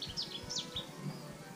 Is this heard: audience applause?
no